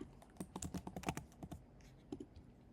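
Quick bursts of keystrokes on a computer keyboard while working on a website design, light clicky taps close by in an uneven rhythm, with a short pause before a final few presses.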